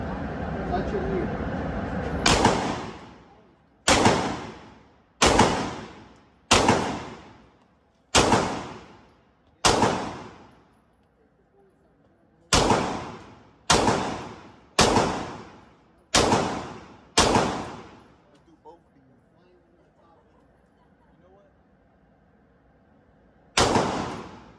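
A MAC-11 fires in short bump-fired bursts, about a dozen loud, sharp blasts with ringing decay, some spaced irregularly and one after a long gap, near and loud.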